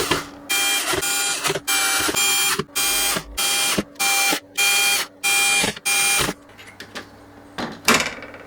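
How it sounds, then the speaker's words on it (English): Screws being driven in by hand to close the lid of an ELKA Synthex synthesizer from the 1980s, heard as a run of about nine evenly spaced bursts of mechanical whirring, close and fairly loud, ending with a few lighter clicks. "I'd also better put these screws in"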